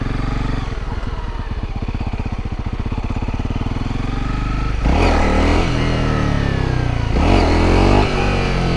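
A 2019 Honda CRF 250L motorcycle engine idles with a steady low putter, then revs hard twice in loud, rising bursts close by, without speech.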